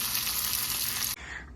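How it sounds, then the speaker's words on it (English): Hasa-hasa fish frying in a pan at home: a loud, dense, steady hiss and crackle of hot oil up close, cutting off abruptly near the end to a quieter hiss, with no talking. "I decided to fry the hasa-hasa a little bit"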